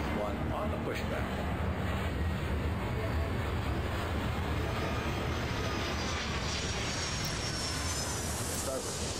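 A jet airliner takes off in the airport management game Airport Madness, a steady engine roar with a rising whine that holds for several seconds under a constant background hum.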